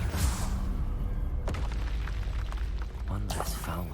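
A Confringo spell explosion in a video game lands as a muffled boom with a rumbling low tail, heard under ongoing talk.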